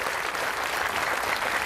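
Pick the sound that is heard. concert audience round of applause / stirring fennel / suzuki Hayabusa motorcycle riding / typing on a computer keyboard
concert audience round of applause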